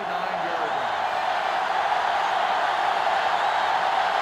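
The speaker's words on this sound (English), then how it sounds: "And this crowd is going absolutely crazy." Stadium crowd noise in a college football video game, NCAA Football 2005, a steady roaring wash of cheering that holds loud and even throughout, with no talk over it.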